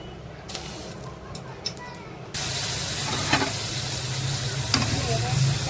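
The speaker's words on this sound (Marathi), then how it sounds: "आपण आता हे तेल गरम झालेलं आहे कलेजी आपण यामध्ये टाकून घेऊ" Chicken liver drops into hot oil in a wok, and after a quieter stretch a strong, steady sizzle takes over, close and continuous, with a few brighter spatters.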